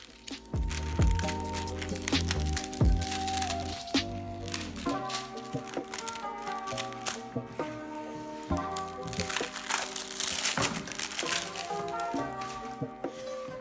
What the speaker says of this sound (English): Here I am opening up the skateboard.